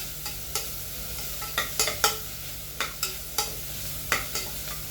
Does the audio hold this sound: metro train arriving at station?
no